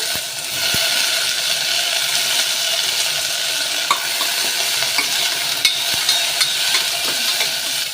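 Onions and chopped eggplant sautéing in a pan for a one-pot sambar, a loud continuous sizzle close up with occasional clicks of a stirring spoon, no voices.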